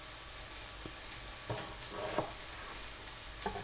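Onions cook in a pan with a soft, low sizzle and a few quiet scrapes and taps of a utensil; no voices are heard.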